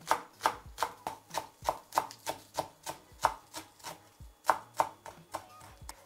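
A knife finely chops a small bunch of green onion at a steady, quick pace, about fifteen crisp, evenly spaced strokes with no talking.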